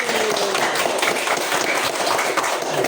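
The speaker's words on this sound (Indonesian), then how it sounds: "Tepuk tangan untuk kelompok tasbih" A group in an Indonesian teacher performance exam setting applauds the tasbih group, with dense, continuous clapping from many hands filling the room for a few seconds, fairly close and loud.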